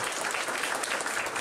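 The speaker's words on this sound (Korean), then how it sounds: "따뜻한 박수 환영해 주시기 바랍니다." Warm audience applause welcomes introduced guests at a disability sports policy workshop, a brief, dense, even burst of many hands clapping with no voices audible.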